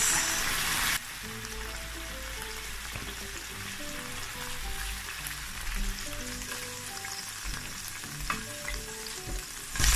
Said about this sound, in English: And I fry this beef for 10 minutes.